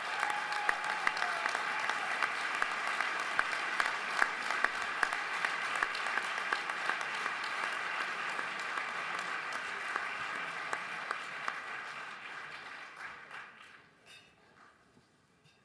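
Audience applause at an awards ceremony for chief financial officers, a steady, dense wash of clapping from a large crowd that holds for several seconds, then thins and fades to near silence.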